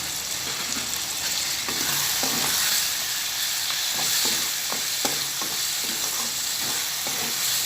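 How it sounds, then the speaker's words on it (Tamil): Chopped tomatoes fry in a pan for Tamil idli manchurian, with a loud, continuous hiss and repeated spatula stirring clicks close by, and no voices. "நம்ம தக்காளி கட் பண்ணி வச்சுருக்கோம், தக்காளி சேர்த்திக்கலாம்."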